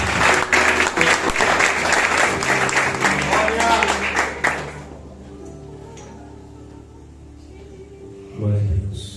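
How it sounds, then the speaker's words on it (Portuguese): A church congregation claps in dense applause to welcome a pastor at an Assembly of God anniversary service, loud for about five seconds, then fading to quiet room tone with a brief low thump near the end. "você pode recebê-lo com aplauso"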